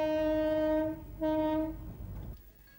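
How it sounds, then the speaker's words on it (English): An electric locomotive sounds two loud horn blasts, a long one and then a shorter one, followed by a fading low rumble, with no talk. "Electric power drives locomotives for better and efficient operation."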